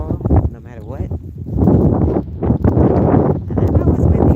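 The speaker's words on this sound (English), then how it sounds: "I know it's windy out here" Wind buffeting the microphone with loud, low rumbling gusts that swell and fade, while a person talks.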